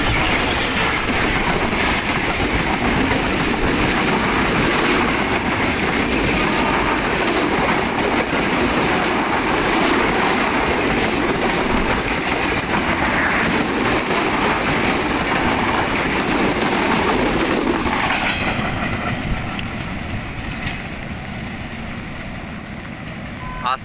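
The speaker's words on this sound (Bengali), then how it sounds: "চলে আসছে রূপসা এক্সপ্রেস।" Rupsha Express rolling past in heavy rain, a loud, steady wash of wheel rumble and carriage clatter mixed with rainfall that continues for most of the stretch before tapering off near the end as the train clears.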